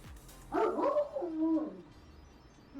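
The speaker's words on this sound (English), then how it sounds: "Nothing better than a Dane barking at you to keep you up for a drive home." A Great Dane gives a short, deep bark-like vocal with a rising-falling tone, fairly close and moderately loud, heard alone without talk.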